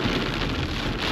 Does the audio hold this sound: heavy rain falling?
yes